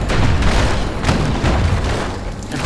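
Loud, dense booming explosions from the action video game Bastion fill the mix continuously, a thick rumbling barrage of blasts with no clear gaps, close and overwhelming.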